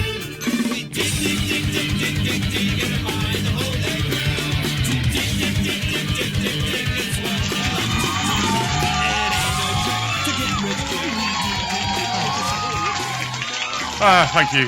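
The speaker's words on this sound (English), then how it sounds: "Your applause is very welcome." A crowd cheers, whoops and yells loudly and continuously for a podcast show's opening, a dense sustained roar of many voices that cuts off abruptly near the end.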